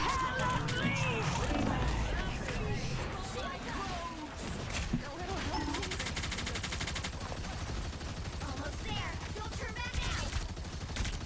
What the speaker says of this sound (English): We shoot Cloak